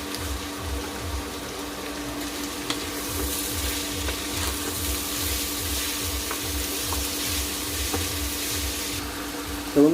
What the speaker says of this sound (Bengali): তেল গরম হয়ে গেছে। এবার আমি সবগুলোকে এর সঙ্গে ভেজে নেব।